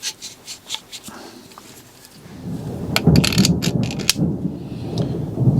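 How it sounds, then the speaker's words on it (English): Thunder rolls in midway, a low, building rumble that continues to the end. It follows several sharp clicks and taps from tools on a knuckle being serviced in a workshop. "Bit of thunder there."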